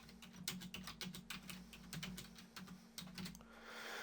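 Quick, irregular keystrokes on a computer keyboard while text is added to a WordPress page, faint and close over a low steady hum.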